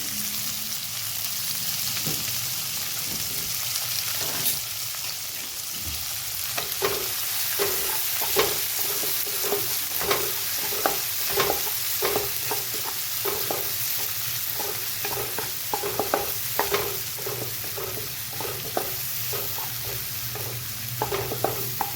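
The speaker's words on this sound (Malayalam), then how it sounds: "ടൊമാറ്റോ ആണ് ഇട്ടേക്കണം നന്നായിട്ട് വഴറ്റി കൊടുക്കാം നമുക്ക്" Chopped tomato sautés in a pan for a vegetable pumpkin soup, with a steady sizzle under regular scraping and tapping strokes of a stirring spoon throughout.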